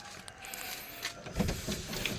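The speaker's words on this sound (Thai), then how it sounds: "กระจกมือหมุนนะครับ" Manual crank window on a Toyota Mighty X pickup being wound, a short run of close mechanical squeaks and grinding clicks with no talking.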